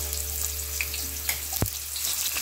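Ginger sizzling in hot oil in a pan for chicken tinola, a steady crackling fry with a sharp clank partway through.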